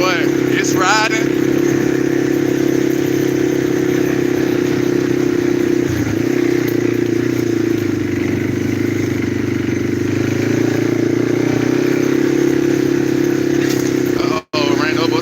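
Riding in third gear, a four-wheeler ATV engine drones loudly and evenly up close, holding a steady pitch with only a brief wobble partway through, as if passing over a stick.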